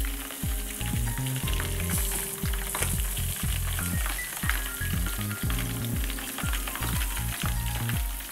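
Food fries in hot oil with a continuous bright sizzle, steady and close, broken by occasional stirring sounds, with a low tonal hum underneath.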